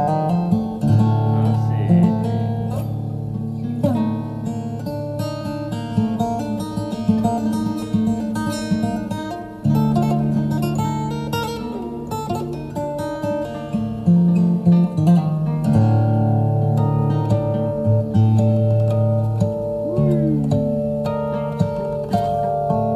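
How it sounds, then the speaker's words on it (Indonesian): An acoustic guitar cover of the Javanese tune Gambang Suling, played with harmonics that give it a chiming, gamelan-like tone. The melody runs steadily and loud over a layered accompaniment for the full length, with no talking. "Mas Alip seperti biasa ya, menggunakan teknik harmonik"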